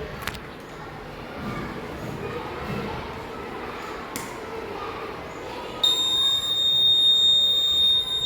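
A steady high-pitched electronic buzzer alarm, triggered by a broken laser beam, switches on partway through and keeps sounding over a noisy, murmuring background.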